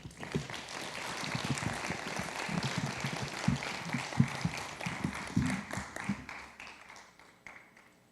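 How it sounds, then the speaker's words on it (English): A crowd applauds a former mayor at a ceremony marking the 200th anniversary of Mexico–US diplomatic relations, with sustained clapping from a large audience that swells, holds for several seconds, then gradually thins out and fades. "Let's give our former mayor another huge round of applause."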